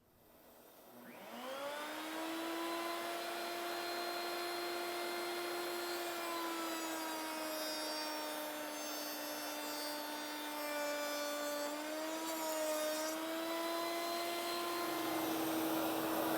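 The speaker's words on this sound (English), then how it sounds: "I'll put the vac on, we'll turn on the router" A wood router cuts raised-panel door stock with a shop vacuum running alongside, producing a steady, loud whine with a strong sustained tone that starts about a second in and holds to the end, with no talk.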